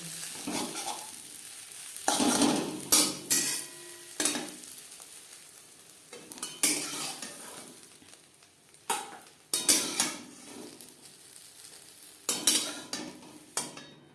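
An egg omelette fries in a pan, a steady sizzle broken by repeated bursts of scraping and stirring with a utensil against the pan, close and fairly loud.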